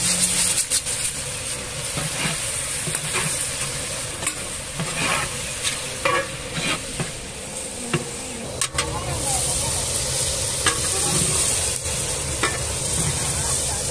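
Dal and dried red chillies sizzle steadily in hot oil in a frying pan, a constant crackling hiss with occasional scraping stirs, close and fairly loud throughout.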